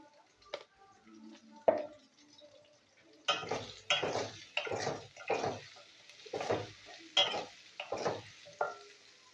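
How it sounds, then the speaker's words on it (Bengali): Pumpkin pieces frying in a pan, repeated scraping stirs at a steady rhythm over a soft sizzle, close and moderately loud, with a few quieter clinks before the stirring starts. "কুমড়োটা একটু ভালো করে ভেজে নেবো।"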